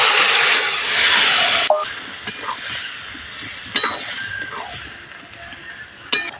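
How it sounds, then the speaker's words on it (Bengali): Boiled papaya curry goes into a pan of fried spice mixture, setting off a loud sizzle and hiss that fades into quieter frying with scattered stirring clinks. "সেদ্ধ করে রাখা তরকারিটা দিয়ে দিচ্ছি।"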